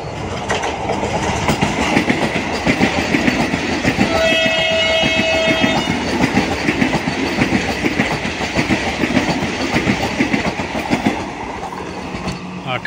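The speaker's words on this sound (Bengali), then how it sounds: "হাওড়া পাটনা বন্দে ভারত প্রবেশ করছে।" The eight-coach Howrah–Patna Vande Bharat Express pulls into a station with a loud rolling rumble and rhythmic wheel clatter, and a clear horn blast sounds early on.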